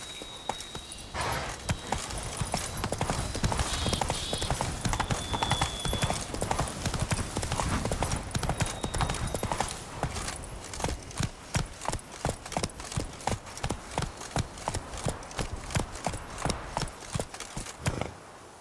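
Horse hooves clip-clopping in The Witcher 3: Blood and Wine, a loud close rhythm that speeds from a walk into a faster gait, with brief voice calls and a whinny early on.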